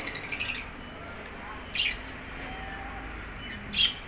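Birds chirp in a place with lovebirds and pigeons, a quick run of faint tweets at the start and two brighter isolated calls later, fairly distant over a quiet background.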